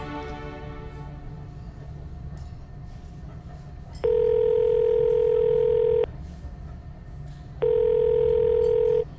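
A phone call on an outgoing line gives a steady ringback tone in two long pulses, each about two seconds, separated by a pause, over a low background hum.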